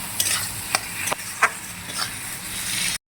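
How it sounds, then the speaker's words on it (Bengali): Fried potatoes stir-fried in a spiced masala in a pan: a steady sizzle with a handful of sharp spatula scrapes and clacks at irregular intervals, close and fairly loud, no voices. "ভেজে রাখা আলুটা দিয়ে একটু কষে নিচ্ছি"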